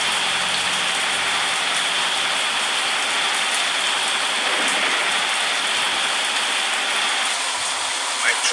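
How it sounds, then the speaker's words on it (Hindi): Steady, dense video game rainfall in a mobile off-road truck game, pattering on a surface, continuous and fairly loud throughout with no breaks. "बारिश भी चालू हो गया है,"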